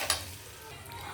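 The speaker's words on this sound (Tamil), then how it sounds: "கொஞ்சம் வேர்க்கடலை எடுத்து வச்சுருக்கிறேன், அதையும் போட்டு நல்லா ஃப்ரை பண்ணிக்கணும்" Peanuts with turmeric, asafoetida and salt sizzle steadily in a hot pan for tamarind puliyodharai thokku, with a brief stirring scrape near the start and no talk.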